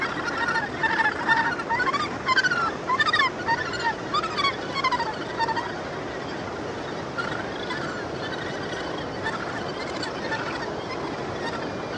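Dense chorus of harsh, grating calls from a large gannet colony at Muriwai, overlapping squawks close by and loud at first, settling into a continuous crowded clamor.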